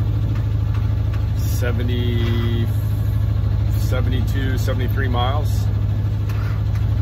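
The engine of the sailboat SeaSprite runs offshore at night to charge the batteries, a steady low hum that continues throughout while people talk over it.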